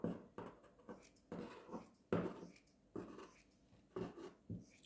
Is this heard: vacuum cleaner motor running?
no